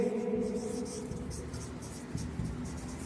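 Writing on a board during a 3D geometry lecture, a steady scratchy stroking of chalk or marker across the surface, close and continuous over a low room hum.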